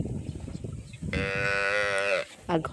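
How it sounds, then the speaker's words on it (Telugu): Cow mooing in a single drawn-out call about a second long, close and clear over a noisy outdoor background with faint voices. "ఆవు"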